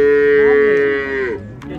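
A calf moos loudly and close at a cattle market in Beyləqan, one long drawn-out call with a falling tail, then quieter livestock sounds after.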